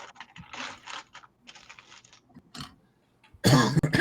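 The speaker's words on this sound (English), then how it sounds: "I still have a cough that is persisting occasionally when I talk" A single harsh cough bursts out loudly near the end, following a stretch of quiet clicking and tapping, like keys on a keyboard.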